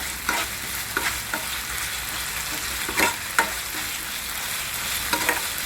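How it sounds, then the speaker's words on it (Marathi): Masala roasts in a hot pan before aubergine pieces go in, with a soft steady sizzle and several scraping spatula strokes standing out over the frying hiss. "मसाला जरा भाजून घ्यायचा"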